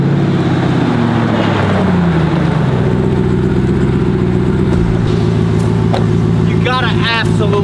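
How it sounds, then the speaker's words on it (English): Loud engine roar of a Jeep Wrangler fitted with a SoFlo Customs Hemi-Hellcat swap while driving, pitch sliding down as it decelerates, with a voice speaking under the drone near the end. "It's a SoFlo Customs Hemi-Hellcat, my favorite engine."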